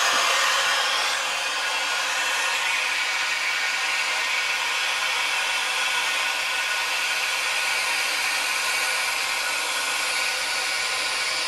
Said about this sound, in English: Release the vacuum.